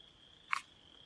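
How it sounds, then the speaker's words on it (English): A single short frog croak from the mud in a woodland camping spot, one brief burst heard fairly close over a faint steady insect-like hum and quiet background. "found our little frog friend here."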